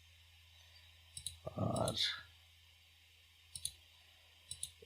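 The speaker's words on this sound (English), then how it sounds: "you just click on this and you just put rename" Soft computer mouse clicks during data editing, a few quiet isolated taps scattered around a brief spoken word, close and faint.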